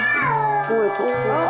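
A cat yowls and meows loudly and close, with long, drawn-out cries that rise and fall, while a second overlapping tone sounds under them.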